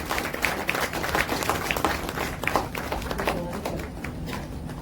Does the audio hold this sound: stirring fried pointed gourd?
no